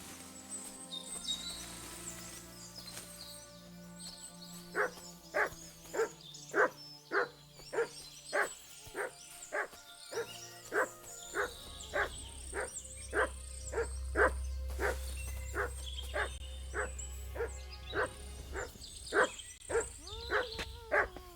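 A dog in Kingdom Come: Deliverance 2 barks in a steady run of loud, evenly spaced woofs, about twenty in all, over faint birdsong and a low ambient game soundscape.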